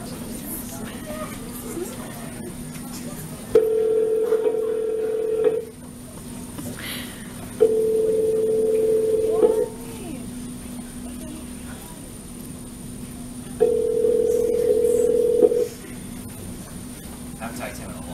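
Outgoing phone call ringback: three long, steady ring tones about two seconds each, separated by gaps, at even volume alongside people talking.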